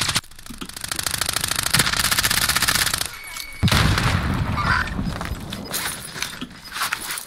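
Dense automatic gunfire and explosive booms from a Call of Duty squad match rattle continuously, break briefly, then resume with heavy rumbling blasts and scattered shots.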